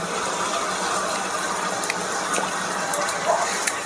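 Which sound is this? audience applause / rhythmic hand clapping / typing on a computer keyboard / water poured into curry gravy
water poured into curry gravy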